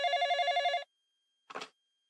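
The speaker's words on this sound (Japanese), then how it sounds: "すると電話が鳴った。" An electronic telephone bell in a PSP horror game trills in a rapid warbling burst for under a second, followed by silence and then a short, softer muffled sound; no one speaks.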